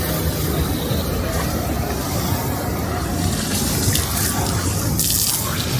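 Water gushes fast from a tap into a container, a loud continuous splashing rush that holds steady throughout with some brighter spattering toward the end.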